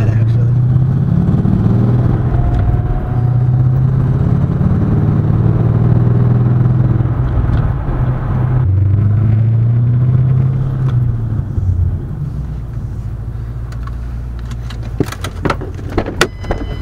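A turbocharged 3V Mustang GT engine revs and drives with a loud, close rumble, its pitch rising and falling through gear changes as the car accelerates and then settles.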